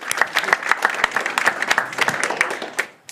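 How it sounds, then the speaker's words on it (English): Applause at a New York City mayoral press event on struggling schools, with distinct individual claps standing out in an uneven rhythm from a modest nearby audience. "Let's give them a round of applause."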